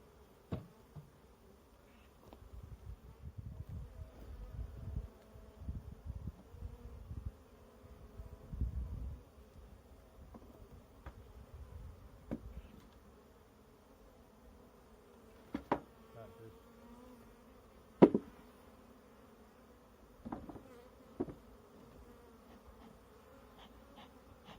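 Honeybees buzz around an opened Langstroth hive during an early-spring inspection, a soft steady drone with individual bees passing close, mixed with scattered clicks and handling knocks from the hive boxes.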